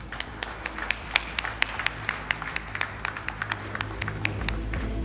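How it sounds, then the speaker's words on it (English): Audience applause at an automotive lubricant oil product launch ceremony, a steady round of many hands clapping with sharp individual claps standing out, sustained and fairly loud throughout. "we can have a huge round of applause."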